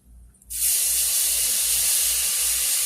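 A sudden, loud sizzle bursts up as lemon juice hits a hot frying pan with chicken, and keeps hissing steadily, with no talk over it.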